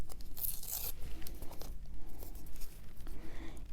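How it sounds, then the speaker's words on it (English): A short rip and crinkle of masking tape being torn in half by hand, close and fairly quiet, with a brief burst followed by softer rustling. "The way to apply the masking tape is just cut it in half like this"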